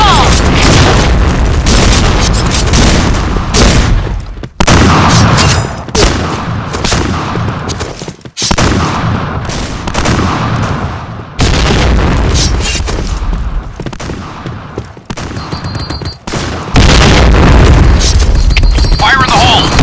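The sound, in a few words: grenade explosions in the video game Point Blank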